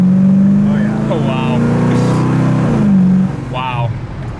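A 1971 Pontiac LeMans convertible with a 455 big-block V8 accelerates hard on a rainy road, its loud exhaust note climbing steadily before easing off sharply as the revs drop.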